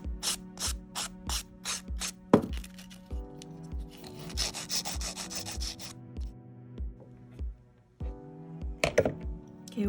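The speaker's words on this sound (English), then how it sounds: "you would do your normal filing routine at this point" A nail file rubs back and forth over acrylic nails in a rhythmic series of short scraping strokes, close and fairly loud, with a steady faint hum underneath and a longer, more continuous rasping run midway.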